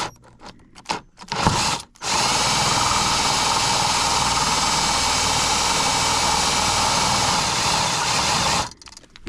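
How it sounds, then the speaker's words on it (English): After a few brief handling noises, a power drill with a new bit whirs loudly and steadily for several seconds as it bores a pilot hole into wood, then winds down. "normally I would drill a pilot hole"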